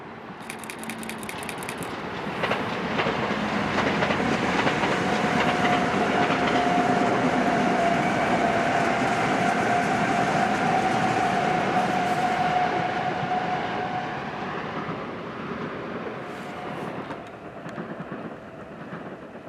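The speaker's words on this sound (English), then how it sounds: "trains in town, like these two meeting M7 sets" Two M7 electric commuter trains meeting on the Hudson Line in town, a loud rolling rumble with wheel clatter that swells, holds for several seconds, then fades as the trains pass.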